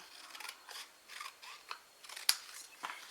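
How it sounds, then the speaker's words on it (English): Scissors snip through a piece of card-making paper, cutting it in half with a series of short, crisp close-up cuts and no talking. "I'm going to cut this piece in half"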